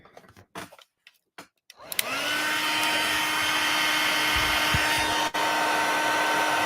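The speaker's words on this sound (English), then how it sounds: "so we're going to heat this up" A heat tool blows hot air onto a card. After a few quiet clicks and handling noises, it starts up into a loud, steady, close rushing whoosh with a thin motor whine that holds to the end.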